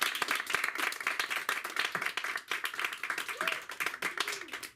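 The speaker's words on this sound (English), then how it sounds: "So give a warm hand of applause" At a comedy open mic, a small audience claps in a brisk, uneven patter of individual hands that stays fairly close and moderate, with faint voices and a whoop or two mixed in.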